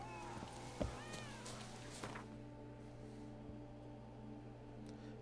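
A cat in The Witcher 3 video game meows a couple of times over steady ambient game music and a low drone, then the calls give way to the lingering background tones.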